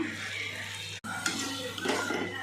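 Bitter gourd stir-fry being sautéed and stirred in a pan, steady soft scraping and light sizzling throughout with a brief pause partway through.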